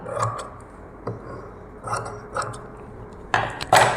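Blouse cloth being cut with scissors for a puff sleeve: a few separate snips and metallic clicks of the blades spread across the moment, the last two louder and closer, with quiet pauses between and no talk.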